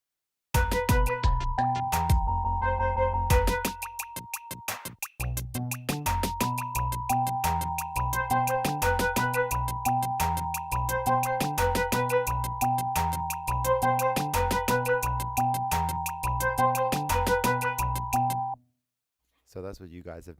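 Song played on an OP-Z synthesizer without sequenced performance effects, a steady electronic pattern of punchy low beats under a sustained high melodic line, looping for about eighteen seconds before cutting out, then a brief restart.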